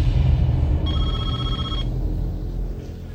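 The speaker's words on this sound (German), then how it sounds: "Sie geht nicht ans Telefon." A telephone bell rings once in a short, steady electronic trill lasting about a second over low background rumble, and the call goes unanswered.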